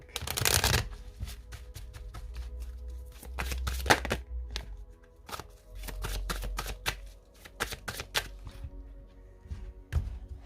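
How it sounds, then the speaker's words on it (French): Oracle cards are shuffled by hand, a series of quick riffling, slapping bursts with short pauses between them, close and clear with no talk over them. "on va piocher la carte, les scorpions"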